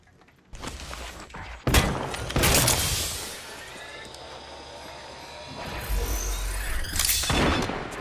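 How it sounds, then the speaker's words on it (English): Enemy gunfire in a first-person shooter, played on an HP Omen 17 gaming laptop: bursts of loud shots and booming blasts fill the clip in dense, near volleys with little pause. "The enemies are shooting."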